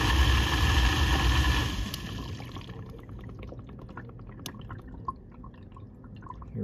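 Household dishwasher filling with water at the start of its pre-rinse cycle: a loud rushing, pouring wash for about two seconds, then settling into a quieter steady hum with faint drips and clicks, no voices.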